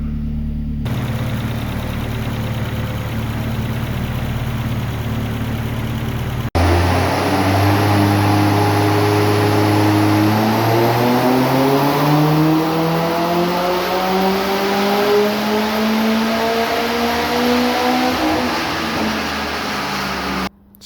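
Vauxhall Astra H VXR with an EFR turbo conversion idles steadily, then after a sharp step revs up in long rising sweeps that climb and hold high; loud, close and continuous with no talk.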